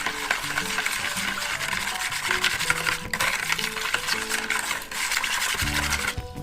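Spoon stirring a dough mixture of soda, egg and vinegar for sweet jam-filled buns, a steady scraping and swishing in a bowl that continues without pause, close and fairly loud.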